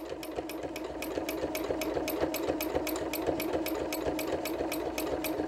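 A sewing machine stitches steadily at high speed during free-motion quilting of a swirl pattern, a close, loud mechanical hum with an even, rapid needle rhythm and no talking.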